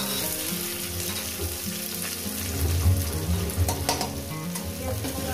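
Chopped onion frying in oil with dried red chillies and cumin, a dense continuous sizzle close by with soft stirring, steady throughout and no talking.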